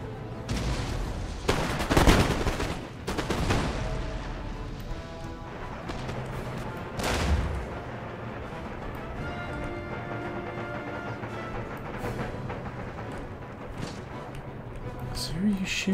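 Artillery and musket fire striking a fortress wall in Empire Total War, a dense early burst of booming impacts and crashes that gives way to steady distant battle rumble with scattered shots.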